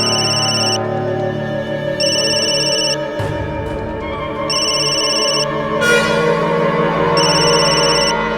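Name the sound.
telephone ringing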